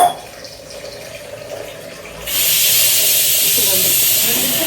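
Tamarind water poured into a pan of simmering fish curry at home, a quiet stretch giving way to a loud, steady hiss and rush of liquid that holds for the last couple of seconds.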